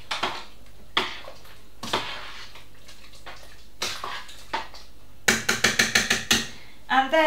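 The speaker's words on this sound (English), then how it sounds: "I have cooked and drained my lentils, so I'm going to bung them in. There we go, give them a mix around." Drained cooked lentils tipped into a pot for a summer ham and vegetable stew, then stirred, with a series of sharp spoon knocks and clatters against the pot, a quicker run of clinks near the end.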